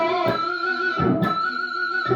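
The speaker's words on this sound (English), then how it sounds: "does what we call a pinch harmonic" Distorted electric guitar holds a shrill, squealing pinch harmonic with a few choppy pick attacks, steady and close, no voices.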